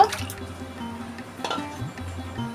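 Washed red lentils tipped into water in a pot, a short wet splash and slosh followed by softer dripping and squishing, close by.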